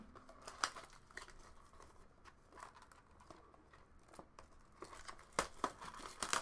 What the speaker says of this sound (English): If I can get the packaging off there.